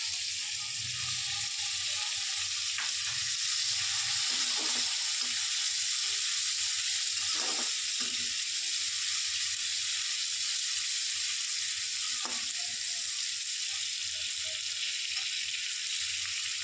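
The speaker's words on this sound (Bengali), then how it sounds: "এবার আমি কুচনো ক্যাপসিকামগুলো দিচ্ছি।" Chopped capsicum frying in a pan with onions for a shol fish dish, a steady loud sizzle and hiss throughout, with occasional soft stirring scrapes.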